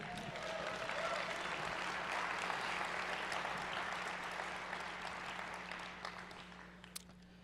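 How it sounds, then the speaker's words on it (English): Keynote audience at SXSW 2014 applauding, a broad, steady roar of many hands clapping that thins out slightly toward the end. "let's give this man some love and let's clap it up for him."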